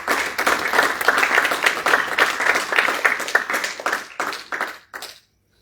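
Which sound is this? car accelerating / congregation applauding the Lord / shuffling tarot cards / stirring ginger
congregation applauding the Lord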